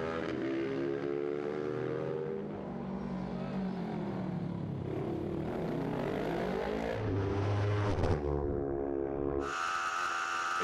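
A racing motorcycle brakes hard on the last lap of a road circuit race at the 2019 Southern 100, its loud, close engine note dropping and wavering in pitch before surging again near the end.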